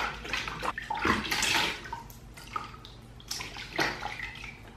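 Water splashing and sloshing in bursts as a creamy pumpkin face mask is rinsed off the face by hand, with several uneven swipes close by and no talk.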